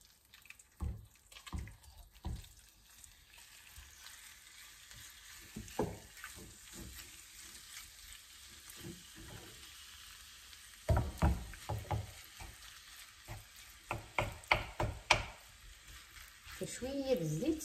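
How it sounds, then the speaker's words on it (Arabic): Meat fries in oil in a pan with a continuous soft sizzle, broken by clattering knocks and bursts of activity at close range, louder in the later half. "شويه بالزيت باش يتشوى"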